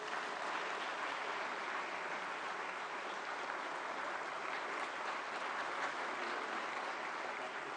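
An audience at a book release event for the collected works of Pandit Madan Mohan Malaviya applauds in a steady, even roar of clapping that continues unbroken, slightly distant and moderately quiet.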